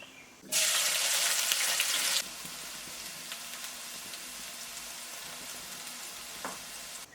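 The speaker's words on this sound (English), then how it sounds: "Stir fry the chilies for about 5 minutes" Chilies hit hot cooking oil with a loud, bright burst of sizzling that lasts about two seconds, then settle into a steadier, quieter frying hiss with a few faint clicks near the end.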